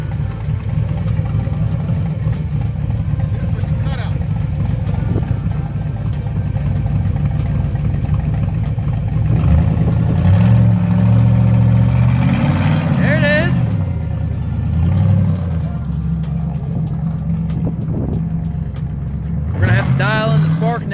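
An LS-swapped G-body car idles roughly and revs repeatedly during a tune test, giving a loud, uneven rumble, with people talking over it.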